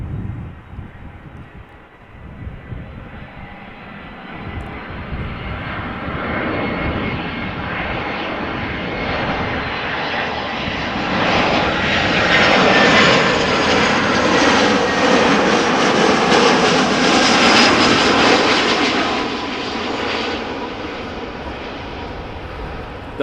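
Boeing 787 Dreamliner at Amsterdam Schiphol Airport, a loud jet engine roar that swells as the aircraft passes close by, peaking in the middle and then easing off as it moves away.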